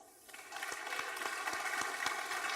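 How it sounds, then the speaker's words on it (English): An audience at a security conference talk claps in a steady, dense patter of many hands, starting a little soft and quickly swelling to a sustained, fairly even burst of applause with no voices over it. "So, round of applause."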